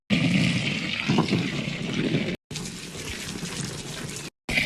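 Water pouring into a backyard pool in summer heat, a loud, continuous rushing splash close by, briefly cut off twice near the end.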